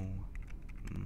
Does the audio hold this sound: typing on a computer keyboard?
yes